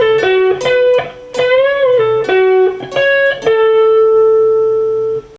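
An electric guitar plays a melodic lead line from the solo section of a song, clean sustained single notes with slides and bends, ending on a long ringing note.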